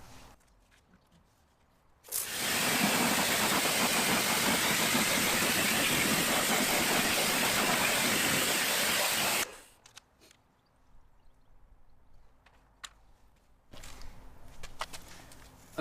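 A jet washer blasts wheel cleaner off a car wheel in one loud, continuous spray lasting about seven seconds, starting and stopping abruptly, with quiet outdoor ambience before and after.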